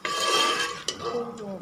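A spoon scrapes and clinks against a pan as chickpeas, potatoes and spices are stirred and fried, a couple of quick metallic strokes over a soft sizzle.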